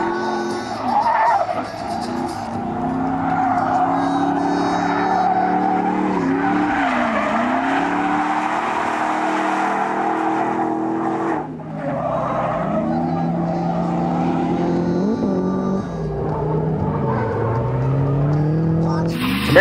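A third-generation Chevrolet Camaro drifts with long, loud tire squeals and a revving engine whose pitch rises and falls in waves, close and continuous throughout.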